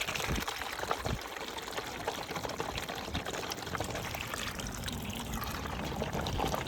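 Water pours steadily into a homemade 5-gallon toilet tank, a continuous close splashing rush that holds level throughout with no talking.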